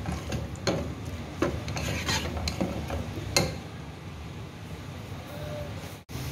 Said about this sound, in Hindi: प्याज को मैं लाइट ब्राउन करूंगी।